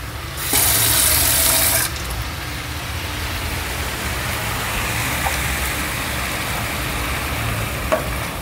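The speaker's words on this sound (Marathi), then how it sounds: "एक वाटी आपल्याला पाणी याच्यात घालावं लागेल." About a bowl of water poured into a pot of simmering misal usal curry, a short bright splashing gush followed by continued bubbling and soft sizzling, near, no voices.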